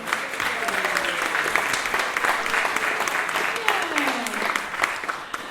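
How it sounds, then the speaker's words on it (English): An audience applauds for Chastity, an assistant introduced at an evening show of games, with dense steady clapping that runs throughout at close range and a voice faintly audible beneath it. "Let's give her a big round of applause."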